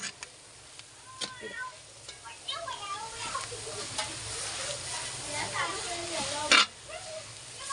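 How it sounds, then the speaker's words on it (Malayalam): Chopped sun-dried mango is stirred and tossed into a mango pickle in a bowl, giving a steady wet scraping and mixing with clinks of the spoon, close and moderately loud. "നമ്മൾ അരിഞ്ഞു വെച്ചിരിക്കുന്ന മാങ്ങ കുറേച്ച വാരിയിട്ടത് ഇങ്ങനെ ഇളക്കി യോജിപ്പിക്കും"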